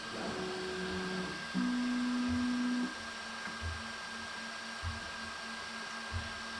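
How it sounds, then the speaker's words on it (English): A Snapmaker J1 IDEX 3D printer calibrates its X and Y offsets with steady whirring stepper motor tones, a higher held whine in the middle, and soft periodic clicks and taps, close and quiet. "Check how the machine is calibrating the X and the Y offset for both sides."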